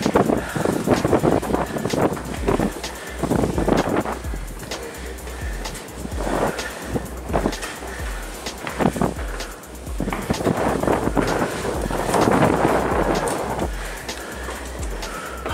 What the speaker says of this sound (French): Ah, les amis, le vent souffle de plus en plus.